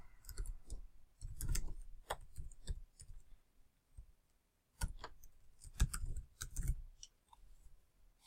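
Keys clatter on a computer keyboard as an email address is typed, quiet close clicks in short bursts with a brief pause midway, no voice over them.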